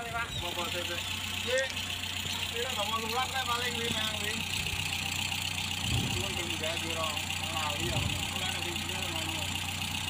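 An old Colt car engine idles roughly just after its filter has been replaced, giving a steady, uneven mechanical drone with a faint ticking, while someone talks over it.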